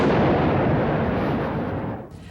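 Heavy naval gunfire from the 16-inch guns of the battleship USS Iowa at sea in the Atlantic: one loud, sustained booming roar that fills the frame and slowly decays, with no voices.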